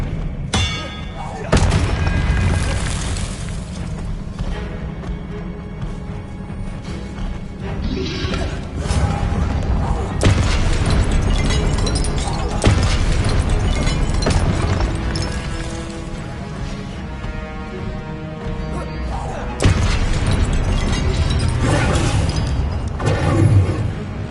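Spell casting in a Harry Potter video game, repeated magical blasts with booming crashes and ringing, bell-like tones, loud and close, under a few spoken interjections.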